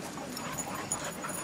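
A ten-month-old female puppy at a dog park pants and gives soft whimpers, a steady breathy rasp with a couple of faint yips, close by and quiet, no talking over it.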